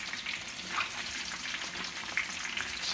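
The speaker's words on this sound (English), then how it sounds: "It don't need too much time frying." Cooked meat frying briefly in oil for Kuwaiti machboos, a continuous close sizzle and crackle at moderate level with no talk.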